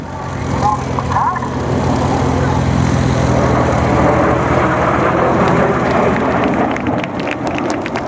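Red Arrows jets roar through the vertical break manoeuvre at a 2013 air display, a loud, continuous rumbling sweep of engine noise filling the whole stretch, with a voice faintly present underneath.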